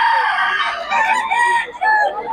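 Chickens cluck and crow amid a noisy crowd at a market in Bocaue, Philippines, with vendors calling prices and a busy, bustling mix of bird calls close by.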